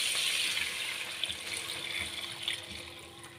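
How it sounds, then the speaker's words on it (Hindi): Water is poured into a pot holding chicken pieces, the start of a chicken yakhni broth, making a steady, close pouring and splashing rush that fills the whole stretch with no talk over it. "सबसे पहले हम पानी ऐड करते हैं।"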